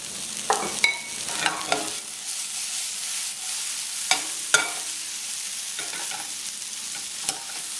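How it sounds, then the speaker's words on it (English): Chopped, seeded tomato stirred in a sizzling pan, a constant close fry hiss broken by several sharp scrapes and taps of the utensil against the pan, with no talking. "Give that a quick stir."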